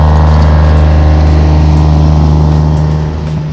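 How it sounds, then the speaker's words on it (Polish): A loud excavator passes close by on a road in Iceland, its diesel engine holding a deep steady drone that slowly fades toward the end. "Ten jedzie tu koparką i wystraszył mi."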